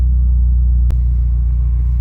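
A BMW M5 Competition LCI engine idles steadily just after start-up, a loud, constant low rumble with one brief click near the middle, no talking.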